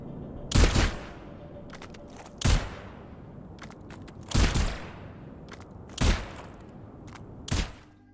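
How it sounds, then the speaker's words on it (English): Gunfire aimed into an ice fishing hole at a snowy spawn point in Overwatch 2, heard as five loud, evenly spaced blasts, each followed by a short rattle, with quieter clicks between them. "So you can shoot into the fishing hole and fish will come out."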